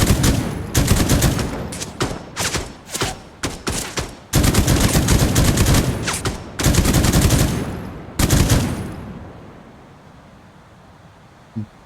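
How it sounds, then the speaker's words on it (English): Video game gunfire in Dagger Directive cracks out in loud, close bursts of rapid automatic shots, broken by short pauses, then falls away to quiet near the end. "They're shooting at us."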